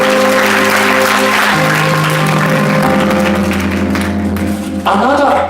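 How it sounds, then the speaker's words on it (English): A congregation claps hands steadily and loudly through a Sunday church service, with sustained musical tones from instruments running underneath the clapping. "Clap your hands for it."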